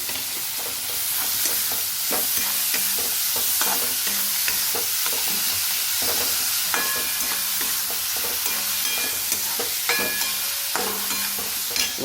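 Potato poha with turmeric, chili, salt and green onion is stirred in a pan, with continuous sizzling and frying hiss under repeated scraping and stirring strokes, close and fairly loud.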